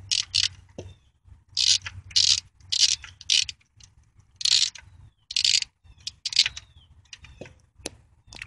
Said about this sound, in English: Okay, so I got the top bolt loosened.